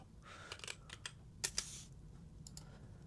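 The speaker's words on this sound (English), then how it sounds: "I'm just gonna type." Typing on a computer keyboard, bursts of close, crisp key clicks arriving in irregular clusters with a few louder taps, alone over a quiet room hum.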